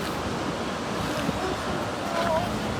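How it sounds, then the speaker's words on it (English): The St. John River at Reversing Falls in Canada surges powerfully toward the Bay of Fundy, a steady broadband roar of rushing water mixed with wind buffeting the microphone, with faint voices briefly in the background. "This is the St. John River, and it is flowing powerfully out into the Bay of Fundy, well past that bridge."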